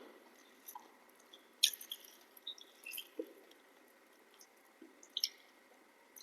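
Lentil dal with bottle gourd ladled out for serving, soft wet squishes and drips with a few light clinks of the ladle, close and quiet.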